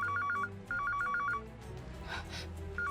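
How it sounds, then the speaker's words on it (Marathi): A telephone rings in quick warbling bursts: two rings with a short gap between them, then a pause filled with soft background noise, and a third ring just starting at the end. No one speaks. "मंगलाताईंचा फोन असणार आहे."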